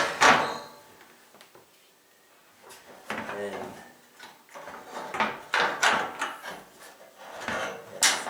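A part of an IKEA RASKOG utility cart is flipped over, producing a series of close knocks, rubs and handling clatter at a moderate level, with some quiet speech-like sound in between.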